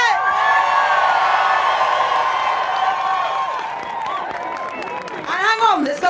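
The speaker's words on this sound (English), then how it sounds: "I want you to give yourselves a massive cheer of appreciation" A large rally crowd in Bristol cheers and whoops loudly and continuously for a Labour leader, the roar fading slightly before a burst of high shouts and whistles near the end.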